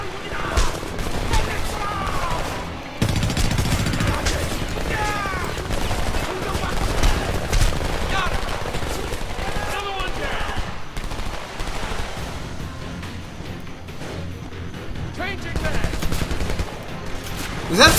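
Sustained machine-gun suppressing fire in the Homefront war video game, rapid overlapping bursts and distant blasts running throughout, with voices talking over the din.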